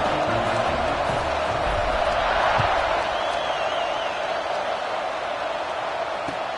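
A stadium crowd at a UTEP versus Nebraska college football game hums and roars in a steady, dense wash of distant voices before the kickoff.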